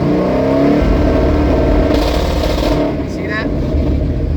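Car engine fitted with an MSD two-step rev limiter holds revs around 4,500 at light throttle, giving a loud, steady, rapidly stuttering drone that dips briefly near the end.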